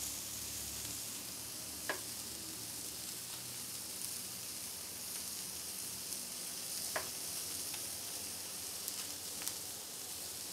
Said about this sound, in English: Love the sound of that sizzle.